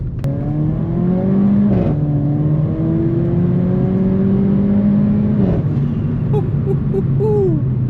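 A turbocharged Mercedes-AMG car accelerates hard with a loud, close engine note that climbs steadily, with brief shift breaks near 2 and 5.5 seconds, then the revs drop away toward the end.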